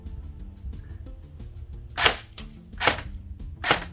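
CYMA M16A1 full-metal airsoft rifle firing three sharp single shots at even intervals, loud and close, over faint background noise.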